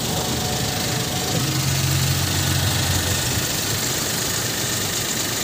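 The engine of a Suzuki mini van runs steadily after the drive belt and tensioner pulley were replaced, a loud continuous drone with a brief low tone rising over it partway through.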